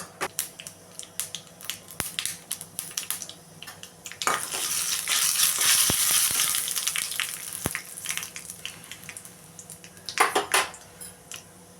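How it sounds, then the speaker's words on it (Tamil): Mustard seeds, urad dal and curry leaves go into hot oil for a spicy chutney tempering, giving a close sizzling crackle that swells mid-way, with scattered pops and utensil clicks between. "காஞ்ச உடனே கடுகு உளுந்த பருப்பு கருவேப்பிலை போட்டுருவோம்"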